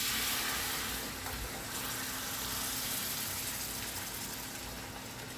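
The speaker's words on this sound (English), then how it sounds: "Now I'm gonna go in and add some hot water." Hot water poured into a pot of island-style stewed fish, a steady rushing splash with sizzling from the hot pot bottom, continuous and close for several seconds.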